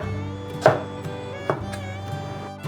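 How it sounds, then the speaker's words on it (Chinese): A knife cuts a carrot into thin shreds on a cutting board in a vegan home kitchen, giving a few sparse, sharp chopping taps close by in a quiet room. "把红萝卜切细丝。"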